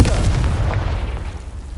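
A booming blast from the Confringo spell in Hogwarts Legacy, a heavy low explosion with a rumbling tail that fades over a couple of seconds.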